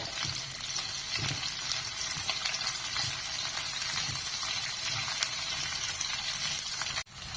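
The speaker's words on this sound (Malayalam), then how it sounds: "മൂന്ന് സവാള വട്ടത്തിൽ അരിഞ്ഞത് ഇട്ട് വഴറ്റുക" Three onions sliced into rings sautéing in a pan for a tomato fry, a continuous soft sizzling hiss with no talking, cut off abruptly near the end.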